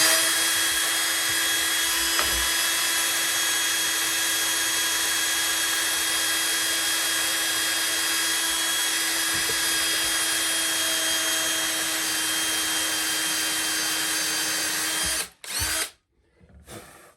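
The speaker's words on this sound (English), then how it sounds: "I've got my countersink drill. I'm gonna start drilling here." A power drill with a countersink bit whines steadily and loudly up close for a long stretch as it bores into bamboo flooring in an RV, then stops abruptly near the end.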